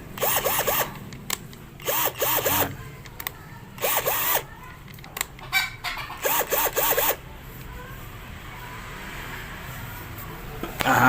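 Cordless drill powered by a freshly tested battery, whirring in several short bursts of a second or so each, with pauses between, fairly close and loud against a quiet background.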